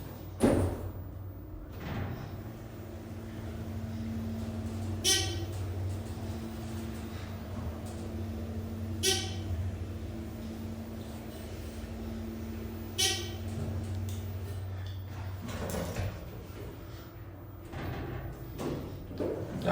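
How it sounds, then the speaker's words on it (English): ThyssenKrupp Aurora hydraulic elevator at a municipal parking garage, its door sliding shut with a few sharp thumps and clunks over a steady low machine hum. "Close the door."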